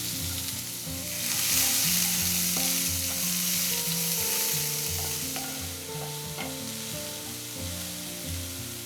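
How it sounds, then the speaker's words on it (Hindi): Finely chopped medium onions sizzle steadily with cumin seeds in a hot pan, a continuous frying hiss with occasional stirring knocks and scrapes, close and alone without talk. "प्याज हमारे थोड़े से भुन गए हैं"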